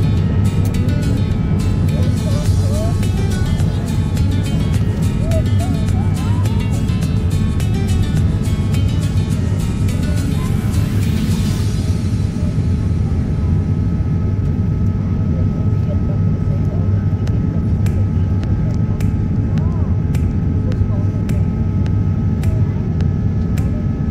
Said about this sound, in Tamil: காய்ஸ், ஃப்ளைட் லேண்ட் ஆக போகுது.